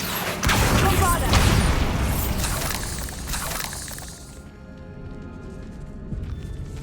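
A Bombarda blasting spell in Hogwarts Legacy detonates with a loud, sudden boom in a decayed catacomb, followed by crumbling, crackling debris that fades over several seconds into a quieter, ringing ambience.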